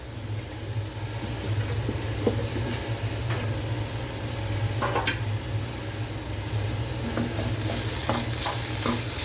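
Coconut oil sizzles and crackles steadily as onions and curry leaves fry, with scattered pops and stirring scrapes throughout, close and fairly loud.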